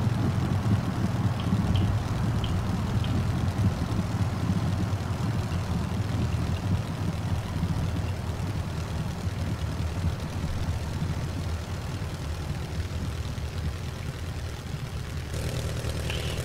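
The Nord 3400 aircraft engine idles in a flight simulator game, a steady low droning hum with a faint whirring edge that runs unbroken and alone throughout.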